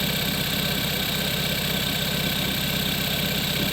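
A Kia Soul with a 1.6L engine idles steadily, a constant close-up drone with an even low rumble and no talk over it.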